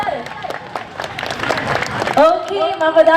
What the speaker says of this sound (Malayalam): എല്ലാരും ചേർന്നിട്ട് ഒരിക്കൽ കൂടി നല്ല കിടെല്ലാം കയ്യടി അടിച്ച് പ്ലീസ്